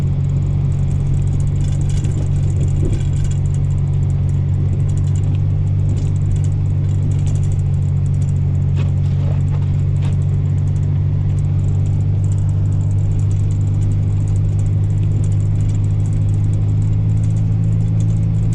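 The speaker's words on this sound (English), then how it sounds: "I'm at 4x4, so I'm okay, but also don't want to spin out at the top of the hill." A 4x4 vehicle climbs a snowy hill with a steady, loud engine rumble and low drone throughout, with no talking.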